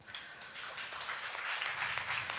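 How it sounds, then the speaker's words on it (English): An audience at a deep-tech accelerator demo day applauds a startup's presentation, a steady wash of many hands clapping at a distance, fairly faint and continuous throughout. "Round of applause for you."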